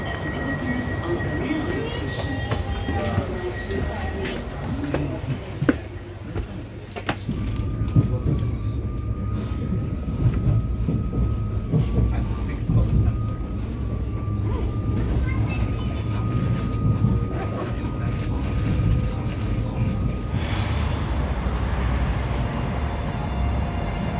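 A train runs along the Rīga–Tukums line between Jūrmala stations such as Majori, Dubulti and Jaundubulti, a steady close rumble and rolling clatter lasting throughout, with a faint high whine and brief squeals.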